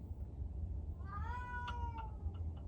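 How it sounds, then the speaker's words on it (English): A house cat lets out a single drawn-out howling meow that rises and falls, then tails off into short broken notes, heard close and clear over a low steady hum. "you don't have to listen to the rest of the cat howling"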